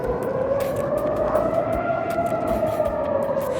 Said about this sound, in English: warning sirens sounded across several communities in Israeli Western Galilee